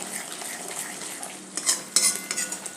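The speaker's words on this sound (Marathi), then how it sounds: "आता हे एक दोन मिनिटं असं फक्त हलवून व्यवस्थित परतून घेऊया मसाला बारीक गॅसवरच भाजायचा आहे" Spice masala being stirred and roasted over low heat in a pan, a steady soft sizzle with scraping spoon strokes that grow louder near the end, no talking.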